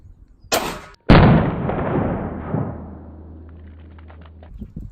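A pistol fires a single 115 grain +P+ jacketed hollow point round: one sharp, very loud crack at close range, followed by a long decaying ring and rumble, with a low hum underneath.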